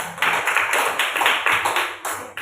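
Classroom applause for a student group, a short burst of brisk, uneven clapping from several people, close and moderately loud.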